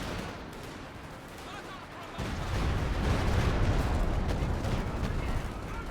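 Heavy battlefield gunfire from a Company of Heroes 2 3v3 match on the Across The Rhine map, with a dense wash of rifle and artillery fire that swells louder midway and stays continuous throughout, with no voices over it.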